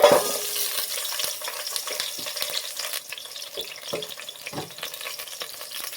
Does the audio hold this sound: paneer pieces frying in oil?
yes